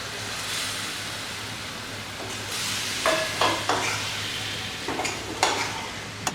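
Lamb liver pieces sizzle steadily in a hot pan, with several sharp scraping and stirring clacks from a spatula in the second half; no voices are heard.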